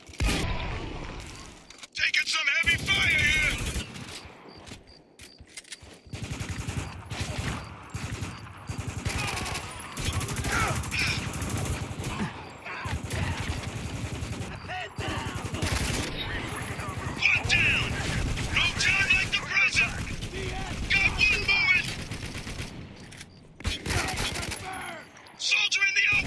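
Heavy gunfire fills a firefight in the video game Spec Ops: The Line, with dense overlapping bursts and loud sustained automatic fire that continues almost without pause and swells again near the end, with voices shouting over it.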